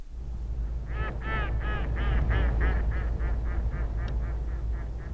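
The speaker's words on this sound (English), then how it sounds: "A flock of teals fly by," A flock of teal ducks flies past, a steady series of about a dozen honking, quacking calls, moderately distant and continuous over open ground.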